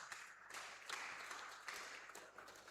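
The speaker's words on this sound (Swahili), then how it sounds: "Hebu tumpe Yesu makofi mazuri kabisa." A church congregation applauding for Jesus during a sermon, a steady wash of clapping from many hands in a hall, moderately distant and fairly faint, with no speech over it.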